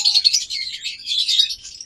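Caged pet birds of a local breed chirp in a rapid, continuous twittering of high, bright calls, close and fairly loud throughout with no talking.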